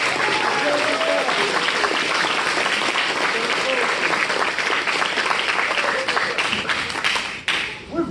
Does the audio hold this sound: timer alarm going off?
no